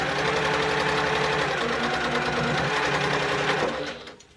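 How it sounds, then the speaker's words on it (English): A sewing machine runs steadily, stitching across a bag lining with a fast, even mechanical whir that stays loud and close before winding down and stopping near the end. "And sew over."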